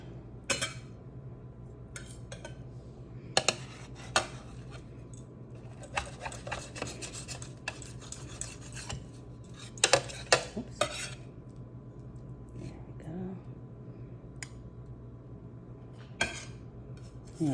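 A knife slicing a lobster flatbread pizza, with quiet, intermittent scraping and clinks against a plate or board, short cutting strokes coming at irregular intervals over a low background hum.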